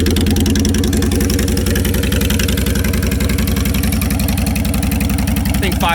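A motorcycle engine, its air cleaner removed, idles in a loud, steady, fast-pulsing chug close by, with a brief rising rev near the end.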